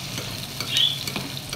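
Sardines with egg sizzle and crackle in a frying pan, with faint stirring scrapes, close and fairly quiet.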